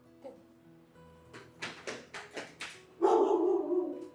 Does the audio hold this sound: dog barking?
yes